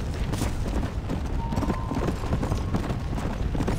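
Horse hooves clip-clop in rapid, continuous rhythm as a mount rides through Red Dead Redemption, close and steady with no talk.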